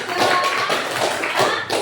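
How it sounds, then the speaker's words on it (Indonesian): Classmates in an Indonesian school classroom clap for a presenting student group, a close, loud burst of scattered hand claps and tapping that rises and falls over a couple of seconds. "kasih tepuk tangan untuk kelompok 3"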